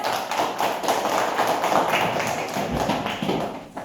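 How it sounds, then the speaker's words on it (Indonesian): Classroom students clapping for a group, a dense, continuous patter of many hands close by with no talk over it. "Kita beri tepuk tangan untuk kelompok gas"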